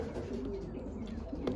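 Young pigeons in a loft give soft, low coos that run steadily through the clip, with faint rustling around them and no clear talk.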